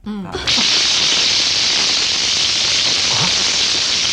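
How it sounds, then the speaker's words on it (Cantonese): A heavy downpour starts abruptly after a brief voice and then holds as a loud, even, close hiss of rain for the rest of the clip. "點解忽然之間落咁大雨嘅？"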